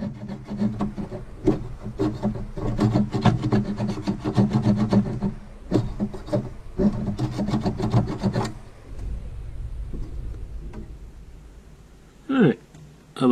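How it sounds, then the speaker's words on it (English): Steady back-and-forth rasping of a hand file on a metal unit, close and continuous in uneven strokes for several seconds before easing off, followed by a brief clatter. "I have a little filing to do that I happen to miss."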